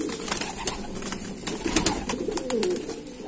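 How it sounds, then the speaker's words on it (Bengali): Dasu breed pigeons cooing close by, soft repeated low coos with light rustling and faint clicks throughout. "এবার দেখাবো একটা দাসু পায়রা দেখাবো"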